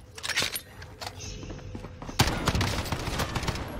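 Bursts of video-game gunfire from Call of Duty Warzone crack out in uneven volleys, with a sharp, heavier shot midway and scattered thuds in between.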